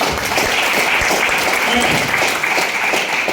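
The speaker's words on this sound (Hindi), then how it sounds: "तो एक जोरदार तालियां होनी चाहिए ऐसी अपॉर्चुनिटी के लिए" Loud, dense applause from an audience at a company business meeting fills the whole moment, with a steady wash of clapping and faint voices mixed in.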